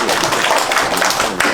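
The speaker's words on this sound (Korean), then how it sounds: "이쪽 고동조 사무장님을 박수로 모시겠습니다" Applause from an audience at a construction workers' union cadre training gathering as a branch secretary is welcomed to the front; a dense, steady patter of many hands clapping, close and fairly loud, lasting the whole short moment.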